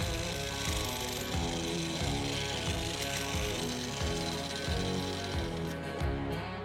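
A jackhammer pounds rock inside a sacred cave, a loud continuous rattling hammer with steady rhythmic pulses and dense noise that fills the whole stretch, no voices over it.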